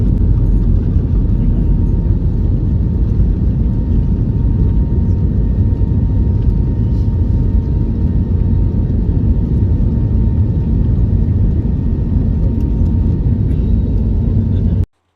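An IndiGo passenger airplane taxis just after landing in Mumbai, its engines making a loud, steady cabin roar that holds unbroken for the whole stretch before cutting off abruptly.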